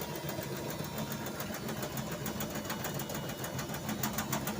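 A washing machine runs hard and shakes about, giving a steady loud churning drone with a rapid rattling pulse throughout.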